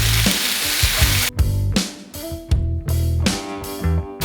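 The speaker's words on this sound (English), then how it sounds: "It's time to pop the mince in." Beef mince for tacos hits a hot cast iron pan with a loud, crackling sizzle, broken by several bursts of sharp frying noise as the meat is stirred and pushed around.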